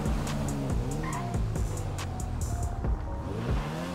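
A motorbike in the video game GTA 5 revs and whines with shifting engine pitch as its tires squeal, forming one continuous loud stretch of game audio with no talk.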